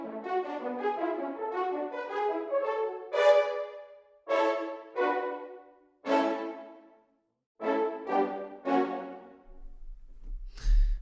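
A brass sample library plays short, crisp staccatissimo notes, first in a quick run and then in separated clusters of detached stabs with brief silences between them, ending in a low thump.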